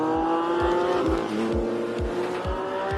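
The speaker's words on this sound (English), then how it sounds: "Oh, an angry Countach." A Lamborghini Countach in a rolling-start race against a classic Ferrari revs hard as it races away, its loud, steady engine roar rising and falling with gear changes, close and continuous, with faint tyre noise underneath.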